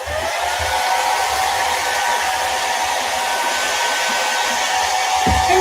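A heat or hair dryer blows a loud, steady whirring rush close up as it dries chalk paint on a small craft door, holding an even pitch without voices.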